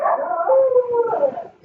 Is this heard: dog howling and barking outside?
yes